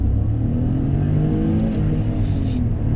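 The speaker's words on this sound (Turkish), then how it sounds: "bir detayı birinci ve ikinci vitesi çok güzel bir ses yapıyor" A new Hyundai i20 with a three-cylinder engine revs in first and second gear, giving a loud, steady, close drone from inside the car that holds throughout, with a brief higher whoosh near the end.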